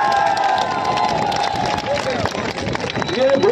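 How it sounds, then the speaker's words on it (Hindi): A crowd at a village prize ceremony claps and cheers loudly, a dense wash of applause with shouts and whistles, while a voice talks over it through amplified sound. "जोरदार ताली"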